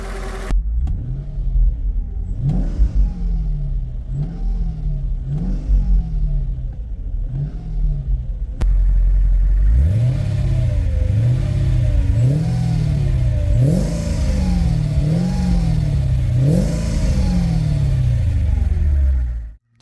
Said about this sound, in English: here is the sound of M113 engine, my CLK convertible